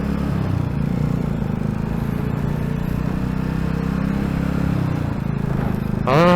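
A Yamaha SR400 single-cylinder motorcycle engine runs with a steady low, thumping rumble, close and loud, under rushing road and wind noise; a brief higher whine rises at the very end.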